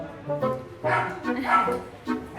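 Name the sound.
poodle barking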